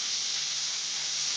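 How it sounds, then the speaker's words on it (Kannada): Onions frying in a pan while preparing a dhaba-style paneer masala, a steady close sizzling hiss holding even throughout with no talk. "ಈರುಳ್ಳಿ ಸ್ವಲ್ಪ ಹಸಿ ವಾಸನೆ ಹೋಗುವವರೆಗೂ ಇದನ್ನು ಚೆನ್ನಾಗಿ ಫ್ರೈ ಮಾಡಿಕೊಳ್ಳಿ"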